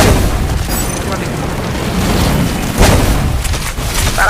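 A grenade goes off in a shooter video game, a loud blast partway through amid continuous rumbling battle noise, with players' voices underneath.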